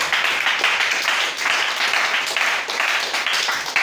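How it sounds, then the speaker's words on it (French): A church congregation applauding loudly, dense continuous clapping from many hands that fills the room without pause. "Acclamez très fort"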